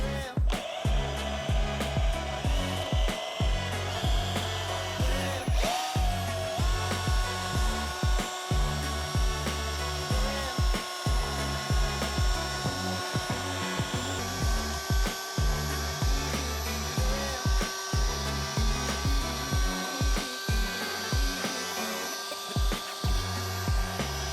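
Power drill fitted with a polishing attachment buffing a car's oxidized paint, a steady high whine with a rubbing, brushing texture and rhythmic dips as the pad moves over the surface.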